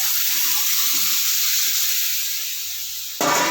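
A pot of matar dal with bay leaves comes to the boil, giving off a steady broad hiss and bubbling simmer throughout, ending in a brief louder splash or stir.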